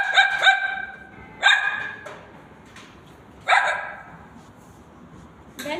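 A girl performing mimicry at a school imitates a dog barking, giving a few sharp, separate bark bursts at spaced intervals, loud and close with quiet gaps between them.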